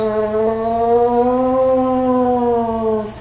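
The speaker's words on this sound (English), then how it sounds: "That was a sad air raid siren." A rising, wailing air raid siren from a soundboard drones steadily with a strong harmonic tone for about three seconds before tapering off. It is loud and close, with no voices.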